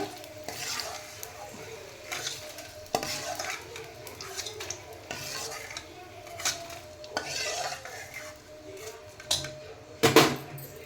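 Edible gum roasts in ghee in a pan, a soft crackling sizzle broken by repeated scraping and clinking of a metal spoon against the pan, close up and quiet, with a louder rattle near the end.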